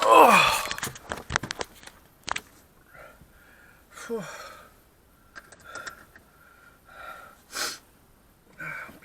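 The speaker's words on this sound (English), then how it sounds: "Blow my nose." A person outdoors in a park during a run blows their nose, with a sharp opening blast followed by several short sniffs, snorts and rustling bursts, close and loud with quiet gaps between.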